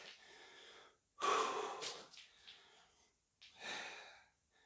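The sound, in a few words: heavy breathing while holding a plank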